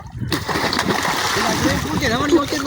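Cold water gushing and splashing from a motor-pumped well outdoors in a village, a continuous splattering rush with voices talking over it.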